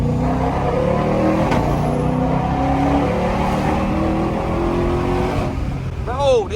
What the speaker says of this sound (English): this motherfucker sound like a real race car